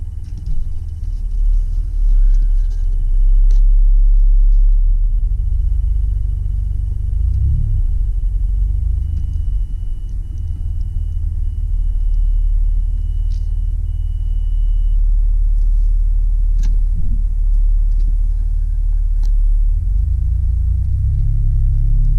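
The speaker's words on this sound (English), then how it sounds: "So let's go for a test drive now." A 2001 Dodge Grand Caravan handicap conversion van on a test drive, heard from inside as a loud, steady low rumble of engine and road noise that swells and eases over the drive.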